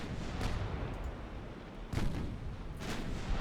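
Battleship main guns boom in a naval battle in Ultimate Admiral Dreadnoughts, with heavy rumbling salvos at about 0.5, 2 and 2.8 seconds over a constant low roar of game noise.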